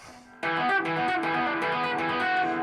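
Electric guitar played dry through high-gain distortion, a thick sustained chord that rings out loudly after a brief quiet lead-in, with no reverb tail.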